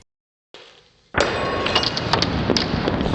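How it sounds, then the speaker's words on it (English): A Pyrex glass dish shatters from a sudden heat change, a loud abrupt crack followed by a sustained, dense spray of breaking glass and tinkling shards, preceded by a quieter hiss. "It can't handle the sudden change in heat, so it shatters."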